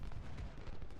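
Canister shot artillery fire rumbles in the Ultimate General: Civil War video game as a dense, continuous low roar of cannon blasts with no talk over it.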